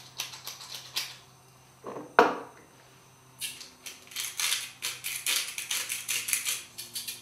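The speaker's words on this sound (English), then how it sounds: "Just going to season with a little bit of freshly ground salt and pepper." Freshly ground salt and pepper cranked from mills over a pot of beetroot soup with veg stock: quick bursts of dry, crunchy grinding clicks, close and fairly soft, in short repeated rhythmic runs.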